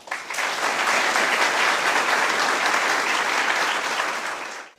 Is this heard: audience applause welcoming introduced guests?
yes